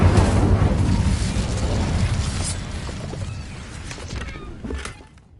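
Incendio fire spell cast in Hogwarts Legacy, a loud whooshing burst of flame that hits hard at the start, then crackles and fades away over several seconds.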